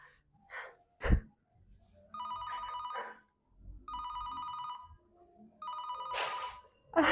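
A phone ringtone sounds on an outgoing call, three repeated electronic ring bursts about a second and a half long, separated by quiet gaps, with a gasp and other sharp noises in between.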